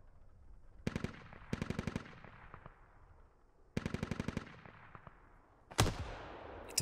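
Automatic gunfire in the Squad video game: several rapid bursts of shots that echo and decay, and then one sharp, louder blast near the end. No one speaks.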